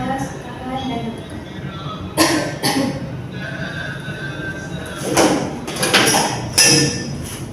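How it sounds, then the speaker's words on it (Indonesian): Several sharp, forceful coughs come in separate bursts, a pair early and a cluster later, from a woman doing an effective coughing exercise after chest physiotherapy in a nursing care setting, with background voices and room noise. "tarik nafas, tahan dan batukan"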